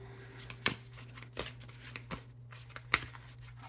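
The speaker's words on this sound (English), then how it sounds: "Let's get one more good shuffle." Tarot cards shuffled by hand, a quiet series of soft riffling flicks and sharper snaps at an irregular pace, close and faint over a low steady hum.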